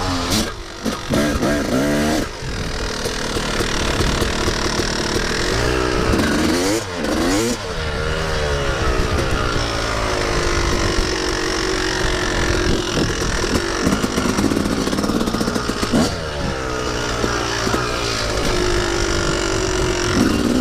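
A Yamaha YZ250 two-stroke dirt bike revs hard and loud through a burnout, a raspy, sustained engine howl with repeated rising and falling pitch sweeps as the rear tire spins.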